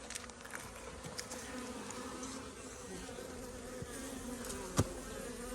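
Honeybees hum and buzz steadily around a hive fitted with a quilt box and sugar board in cold weather, a dense droning swarm close by, with an occasional louder bee passing near.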